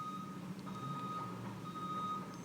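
A garbage truck's reversing alarm beeps steadily in Los Angeles, a thin repeating tone riding over the low rumble of the truck's engine, moderately distant with no voices.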